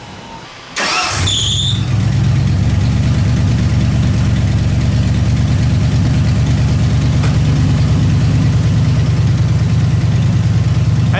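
An old junk truck engine cranks briefly and catches, then settles into a loud, steady, rough idle with a low shaking rumble that continues to the end, no talking.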